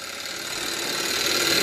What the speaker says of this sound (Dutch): 2 Stirling motor op bio-ethanol.